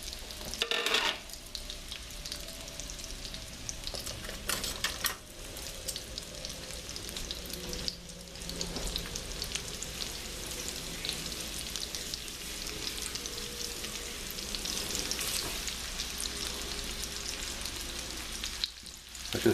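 Veal cutlets frying in a hot pan over a raised flame, a continuous even sizzle with a few brief bumps of handling, close and steady throughout, no one speaking.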